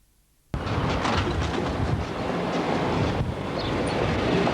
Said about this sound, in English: A special from Wellington Salop passes number 1 box.